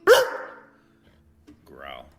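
A dog barks once loudly on command, close by, then after a pause gives a rising whiny yip or vocal sound, with a person's voice nearby.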